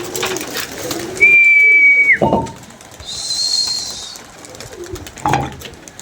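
Pigeons at a pigeon-keeping rooftop coo softly amid outdoor background noise, with a sustained whistle and a brief flutter or chirp partway through, no talking.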